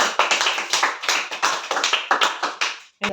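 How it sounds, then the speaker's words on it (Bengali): A group claps together in a steady burst of loud, close, irregular claps lasting about three seconds, then stops briefly before another clap. "এই যে তেষট্টি পেয়েছে আমাদের ফুচকি রানী সবাই হাততালি দাও"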